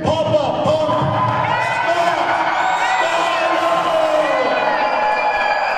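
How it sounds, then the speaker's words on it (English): A wrestling arena crowd roars and cheers wildly for Scott Steiner's entrance, a loud, sustained wall of whoops and shouts with an announcer's voice running over it. "And the crowd is going absolutely wild here for Big Poppa Pump"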